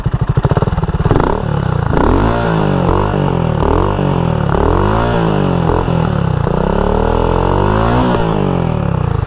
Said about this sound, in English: let's do a little exhaust sound test